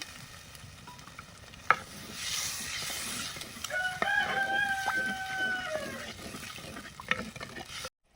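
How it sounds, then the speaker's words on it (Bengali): Spice paste with Kashmiri chili powder and water sautés in a pan, a low steady sizzle with scraping stirs, while a rooster crows in the background. "জল দিয়ে মশলাটা কষে নেব"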